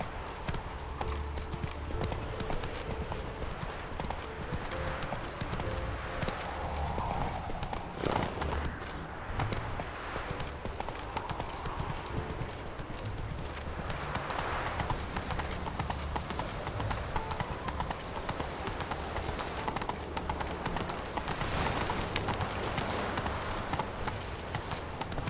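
Horse galloping in The Witcher video game, rapid steady hoofbeats clip-clopping without a break, with game ambience and occasional faint voices underneath.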